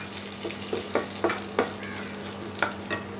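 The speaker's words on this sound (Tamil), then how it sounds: "போட்டு நல்லா இந்த கடுகு பொரிஞ்சு இந்த சீரகம் வாசனை வர்ற வரைக்கும் வதக்கிக்கலாம்" Mustard seeds and cumin crackle in hot oil, a steady sizzle broken by scattered sharp pops, close and fairly quiet.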